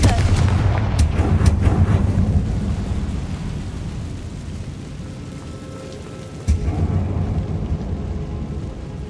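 Confringo spell explosions in the video game Hogwarts Legacy: a loud, booming blast fades into a long, crackling rumble, and a second sharp burst hits later, followed by more rumbling.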